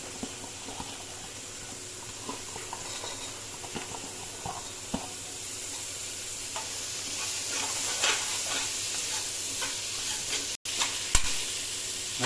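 Beans and carrots sautéing with tomato in a pan for vegetable biryani, a steady close sizzle with scattered stirring scrapes throughout, no voices.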